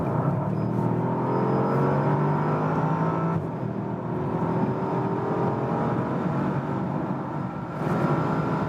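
Bentley Continental GT coupe accelerating hard in sports mode from about 90 km/h, its engine note rising steadily through the gears with a brief dip at a shift, heard from inside the car over road and wind roar.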